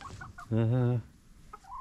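A single drawn-out hen squawk, fairly loud and close, rises out of a quiet room for about half a second.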